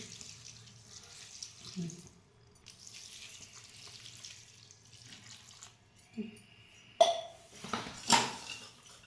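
Fenugreek leaves are rinsed under a running kitchen tap, with a gentle trickle of water and soft splashing, bursts of louder splashing and handling near the end, close and in a quiet room.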